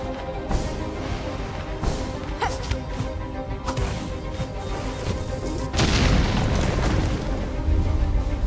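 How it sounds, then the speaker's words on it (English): A burst of noise from an explosion in Hollow Knight: Silksong, rising partway through as a loud, sustained rumble over continuous game sound effects and music. "we need to get out of the way of that explosion"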